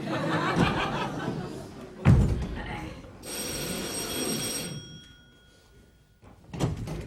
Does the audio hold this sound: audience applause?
no